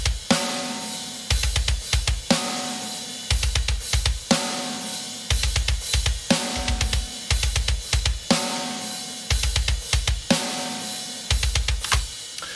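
A metal drum kit programmed in Superior Drummer 3 software plays a fast, tight groove. Rapid double-kick bursts and sharp snare hits repeat in a regular pattern, with bright cymbals over the top, loud and alone.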